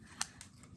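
Scissors snip through felt for a handmade play cake, with two crisp, close cuts about a fifth of a second apart and a softer third snip, over quiet room noise.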